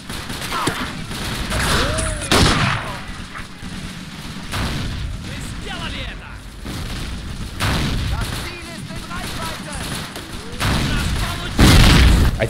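Explosions and gunfire from the World War II strategy game Faces of War, where an AT grenade hits a Nebelwerfer rocket launcher: repeated booming blasts and volleys at moderate loudness, with someone talking over the battle.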